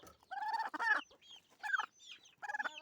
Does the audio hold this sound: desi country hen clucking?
yes